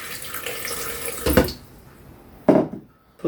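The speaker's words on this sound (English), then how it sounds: "let's just add a little bit of water to start off with." A kitchen tap runs as water is added to a curry paste. The steady flow stops, followed by quiet, then a short splashing burst near the end, with no talking.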